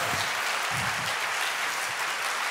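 An audience claps for a twelve-year-old boy at a summer Bible school gathering, giving a short burst of dense, steady applause with a few deeper thumps underneath.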